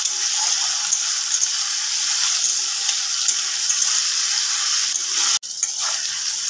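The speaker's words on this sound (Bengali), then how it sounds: "সবজিটা আমি এবার ভালোভাবে একটু ভেজে নেব" Mixed vegetables for veg hakka noodles fry in a hot pan with a steady, loud sizzle and hiss, broken by one brief cut near the end before the frying resumes.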